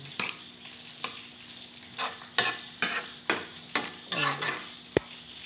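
Sautéed pork with sponge gourd and miswa noodles gets stirred in a pan over a soft sizzle, with a series of separate utensil scrapes and clinks close up.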